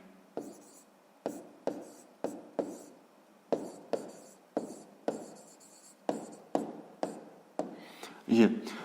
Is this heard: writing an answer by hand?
yes